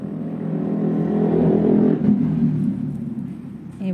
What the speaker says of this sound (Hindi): ट्रैक्टर स्टार्ट चल दिए भाई